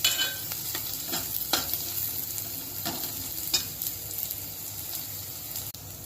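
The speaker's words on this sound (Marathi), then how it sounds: "हे पहा, भाजीचा कलर चेंज होतोय, आणि सारखं हलवायचंच आहे, म्हणजे भाजी चिटकणार नाही." Vegetables frying in a pan sizzle softly while a utensil stirs them, with scraping strokes repeating irregularly over a steady low crackle, no voices.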